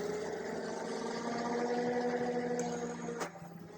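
Flywheels of a foam dart blaster, an AF Monolith or Rival Nemesis, spin up and hold a steady faint electric whine for about three seconds, then wind down.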